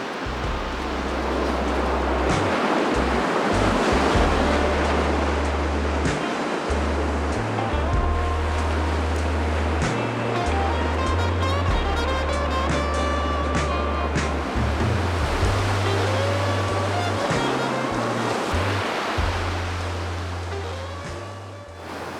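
Ocean surf at Third Beach on the Washington coast, a steady broad wash of breaking waves with a low droning rumble underneath, continuous and fairly loud, no voices.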